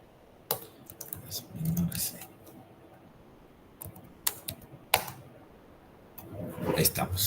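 Someone types on a newly swapped computer keyboard while coding, sharp clustered key clicks arriving in sporadic bursts with short pauses, and a voice talks between them.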